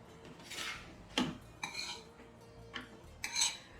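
Metal spatula scraping and lifting diamond-cut spicy maida biscuit dough off a surface, a few short quiet scrapes and clinks spaced apart, with no talking.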